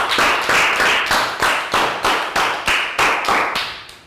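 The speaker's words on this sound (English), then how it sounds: "High five and a round of applause for Prel." Year 3 students in a math classroom clap together in a steady rhythm, about a dozen loud, close claps evenly spaced over four seconds, with no talking over them.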